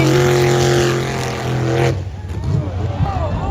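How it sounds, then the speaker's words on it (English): A sprint boat at a racing event at Extreme Sports Park in Port Angeles, Washington, roars loudly with a steady droning engine tone, then cuts off abruptly partway through, leaving a lower, rougher rumble. "Feel the rush of speed and the roar of the engine."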